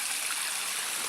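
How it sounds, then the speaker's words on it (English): A spring-fed creek on rural pasture land flows in a steady, close, broadband rushing hiss, with no voices over it. "This creek, spring, whatever you want to call it, has run like this since the day we got on this property."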